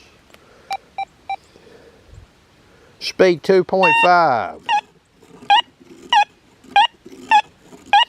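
A Deus 2 metal detector with the HF2 coil in full-tones mode gives a series of short electronic beeps and warbling tones over a target, a gold ring above an aluminum can, with someone talking briefly.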